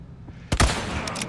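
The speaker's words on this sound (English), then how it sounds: "This rifle's coming in handy today." A single sharp rifle shot rings out in the Resident Evil 4 Remake video game, a loud crack followed by a short echoing tail, with no voices over it.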